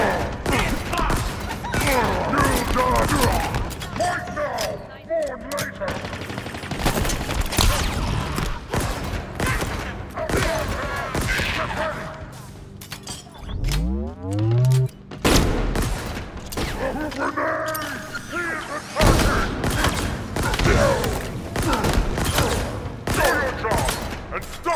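Heavy gunfire rattles through combat in the shooter Halo Infinite, with sustained bursts and booming impacts alongside shouted voices and a descending sci-fi whoosh near the middle.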